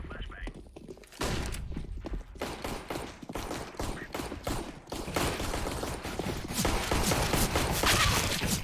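Busy CS:GO firefight: repeated sharp gunshots and thuds over constant game noise, with a flashbang grenade thrown amid the clatter and a bright burst near the end, while players talk throughout.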